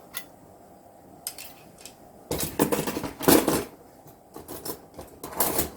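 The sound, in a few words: old cutlery being handled and clinking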